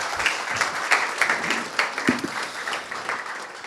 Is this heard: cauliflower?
no